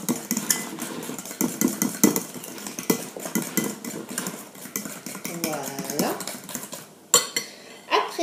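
Spoon scraping and clinking against a bowl while fromage blanc is stirred into egg yolk and sugar for an apple cake, with steady rhythmic taps and a brief voice partway through.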